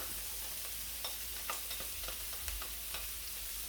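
Ginger and garlic frying in oil in a pan for sausage fried rice, a steady soft sizzle with occasional stirring scrapes, fairly quiet and close.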